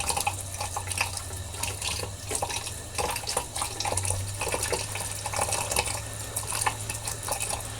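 Tap water runs steadily into a sink while shaving soap is whipped up, a continuous splashing hiss with a low hum underneath, close and without talk.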